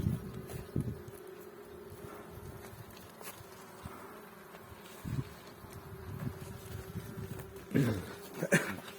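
Honeybees buzz steadily around a hive outdoors at an apiary in spring, a low continuous drone with a few louder passes near the end, faint voices occasionally.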